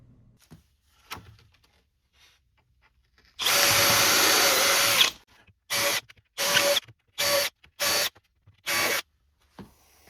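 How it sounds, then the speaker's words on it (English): A power drill pre-drilling holes in wood for a raised planter box whirs in one long burst, then in several short bursts, close by, with quiet tapping and handling noises between. "But pre-drill everything and then screw it."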